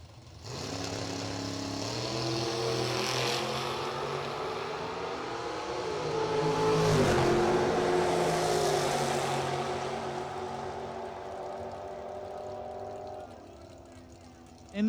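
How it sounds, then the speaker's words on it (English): A 1979 Camaro Z28 at a street-car drag racing event roars off the line in a wheel stand, engine pitch climbing through gears, loud and sustained before fading, with a commentator talking over it. "That's Nelson Bissell in a wheel stand in 79 Z28."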